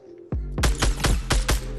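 Gunfire in the battle royale game Fortnite: five or six sharp, loud shots crack in quick succession over about a second and a half, with no talk.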